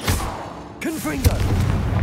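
A Confringo fire spell detonates in the Hogwarts Legacy video game, landing as a single heavy booming blast with a crackling tail, preceded by a short gliding whoosh, all fairly loud over busy game ambience.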